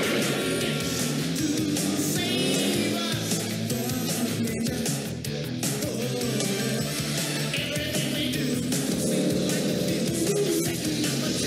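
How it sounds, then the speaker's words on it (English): Busy, dense chase music from the soundtrack of the 1989 film Collision Course plays steadily at full volume throughout, a driving full-band mix with no talk over it. "It's good chase music though."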